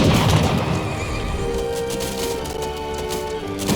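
Horse whinnying in the battle game Age of Empires 3 during a French versus Dutch rush, a long neigh heard over a dense, loud wash of combat noise and thuds.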